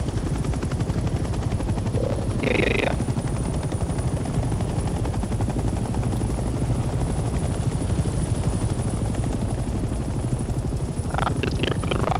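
A military helicopter in Hell Let Loose Vietnam drones continuously with a steady rotor chop throughout, close and loud, while scattered gunfire and a brief voice break through the engine noise.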